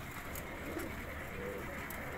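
Pigeons of many breeds housed in a loft cooing softly and steadily, a faint continuous murmur of low calls in the background with no clear speech.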